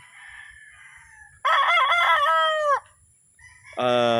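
A seven-month-old rooster for sale, a sweater and possum gamefowl cross blind in its right eye, lets out two loud, close crows, the first long and wavering, the second starting abruptly at the end, over a quiet background.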